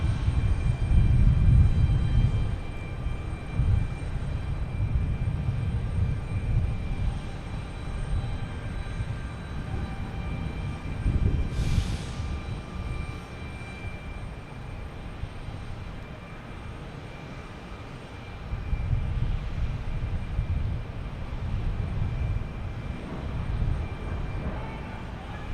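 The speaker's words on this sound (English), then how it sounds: "next taking off is United Airlines heading to Newark" A United Airlines jet takes off at Boston Logan Airport, its engines a steady low roar that builds loud and close, eases through the middle, then swells again before holding on.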